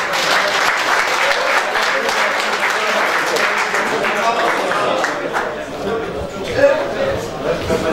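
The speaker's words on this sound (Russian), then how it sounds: "Ваши бурные аплодисменты" Enthusiastic audience applause at an event honoring an intercontinental swimmer, dense and sustained clapping throughout, loud and steady with a brief swell near the end.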